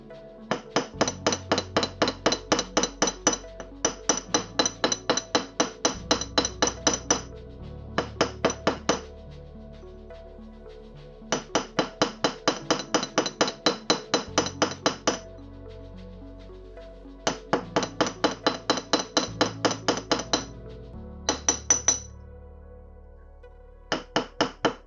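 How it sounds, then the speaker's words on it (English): A hammer taps wire for a wire-wrapped pendant in rapid, even strikes. The strikes come in repeated bursts of metallic tapping separated by short pauses, close and fairly loud. "you can gently go around with your hammer and you can smooth those out"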